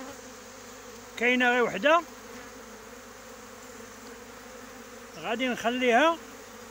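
Honeybees from a newly caught swarm hum steadily around their hive at an apiary, a continuous close buzz in the background while someone speaks twice in short bursts.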